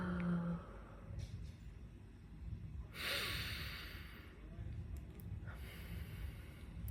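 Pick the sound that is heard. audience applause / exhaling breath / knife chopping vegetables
exhaling breath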